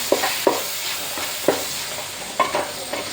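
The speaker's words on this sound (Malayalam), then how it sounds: "നമുക്ക് ഒന്ന് ഇളക്കി കൊടുക്കാം" A chicken curry with tomatoes just added is stirred in a pan, several distinct scraping strokes spaced about a second apart over a low, steady sizzle, with no one speaking.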